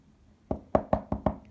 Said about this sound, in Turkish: Aa kapı çaldı.